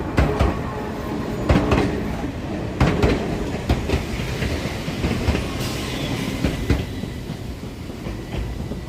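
An Enoden train rolls past on tracks between Fujisawa and Enoshima, steady wheel rumble with repeated clickety-clack rail-joint clicks over about nine seconds, close and continuous.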